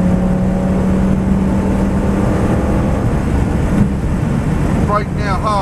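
In-car sound of a Lamborghini Gallardo on the Donington circuit: a loud, steady engine roar accelerating with constant wind rush, and a voice coming in briefly near the end.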